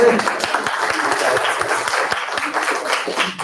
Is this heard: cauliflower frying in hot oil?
no